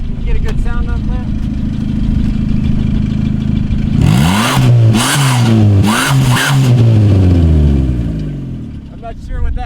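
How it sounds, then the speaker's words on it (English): A car engine with a modified exhaust blips through several sharp revs in the middle, each rising and falling, after a steady idle; a voice talks briefly over the start. "I'll give it a little rev. You can get a good sound up there."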